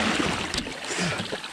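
A personal watercraft engine idles with a rough, low, continuous rumble and some wash, close by, lasting a short moment with no talking.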